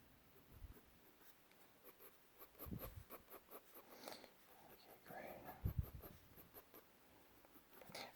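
A pencil sketches fur strokes on paper while drawing a werewolf figure's torso, giving soft, quiet scratchy scribbles in short bursts over a faint background, with a few louder strokes near the end.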